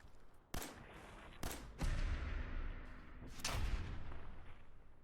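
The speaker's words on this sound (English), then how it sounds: "Let's shoot him in the face." Pistol gunshots from a 10mm pistol in the video game Fallout 4, three sharp loud cracks spaced a second or two apart, each followed by a rumbling tail over a low background din.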